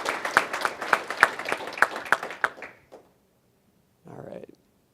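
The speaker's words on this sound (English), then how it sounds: "So maybe just give a round of applause for these folks that have contributed a lot to the project since last year" A short burst of audience clapping at a conference talk on Apache Accumulo, with distinct claps in a loose rhythm for about two and a half seconds before it fades, followed by a brief low murmur.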